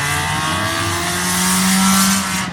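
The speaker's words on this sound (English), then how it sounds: "Bobby Applegate in the 113 machine" A factory front-wheel-drive race car runs a single-car qualifying lap at Indianapolis Speedrome, its engine close and loud, holding a strained, rising pitch that swells then eases off.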